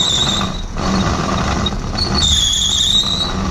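A Tesla spinning its wheels under throttle on a rocky mountain trail, heard as a continuous high squealing whine with mechanical grinding, close and loud, rising again near the end, no talking.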